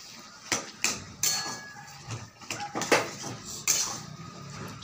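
A spoon scrapes and knocks against a pan while vegetarian Bengali-style spinach and potato curry is stirred, giving irregular clanks and taps at moderate volume with no voices.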